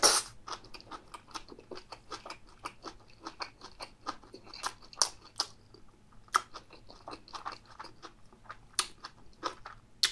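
Crunchy chewing and biting of Korean stir-fried gopchang and crisp skate, close-up and dry, with dense irregular crunches in quick bursts and brief pauses, no talking.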